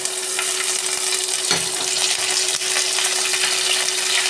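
Fenugreek seeds and curry leaves frying in hot oil for a spicy mackerel curry, a steady loud crackling sizzle throughout with one brief clatter midway, close and unbroken, no talk.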